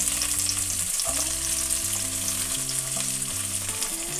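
Small onions fry in a pan with a steady, close sizzle that runs unbroken for a few seconds, alone, with low tonal hum underneath.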